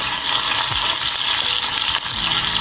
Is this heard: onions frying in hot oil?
yes